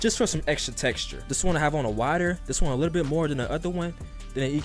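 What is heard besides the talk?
None of the usual background noises is heard.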